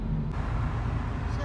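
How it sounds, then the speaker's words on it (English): Steady road traffic surrounds the listener on both sides of a busy road at evening, a continuous low rumble of engines and tyres with no single vehicle standing out. "Traffic everywhere, both sides,"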